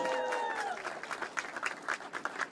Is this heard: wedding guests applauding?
yes